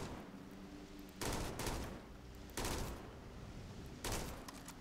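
Gunfire in the video game Starfield comes in three short bursts of rapid shots, faint and distant over a steady background hiss.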